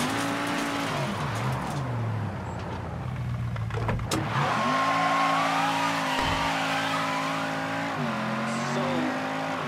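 A car in Mafia III drives alone with a loud, close engine that rises and falls as it revs, a brief tire squeal midway, and a steady drone after.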